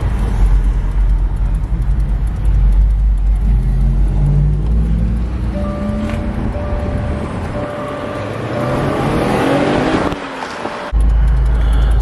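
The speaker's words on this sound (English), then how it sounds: "We're about to bust a U on the damn freeway" A car travels at speed on a freeway during a U-turn, its engine and road noise a steady loud rumble with wind, rising slightly as it turns, then dropping briefly before resuming.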